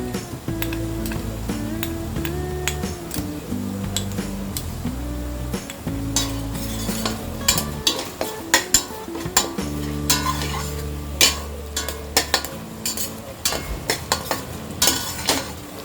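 Finely chopped onion with ginger garlic paste sizzling in a pan for misal pav, a steady fry with repeated clinks and scrapes of a spoon stirring against metal, alone with no talk.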